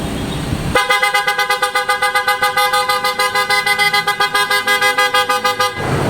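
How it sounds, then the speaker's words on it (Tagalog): A loud car horn honks in rapid, steady pulses for several seconds, bright and close, then cuts off abruptly. "pinalitan natin ng auto style horn"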